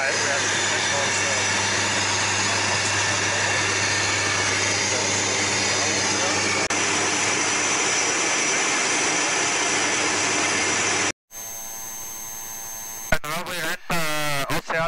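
Twin-engine Diamond DA42 light aircraft in flight on a solo ocean crossing, a loud steady engine and propeller drone filling the cabin continuously, then a brief cut to quieter cockpit sound with a few warbling tones near the end.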